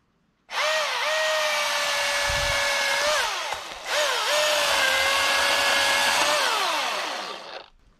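A Milwaukee M18 cordless chainsaw cuts a notch in a tree: a loud, steady electric motor whine runs in two long bursts, its pitch sagging as the chain bites into the wood and dropping away as it winds down.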